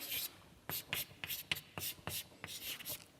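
Chalk or marker strokes scratch and tap across a board while math is written out, in quick irregular bursts close by. The room is otherwise quiet.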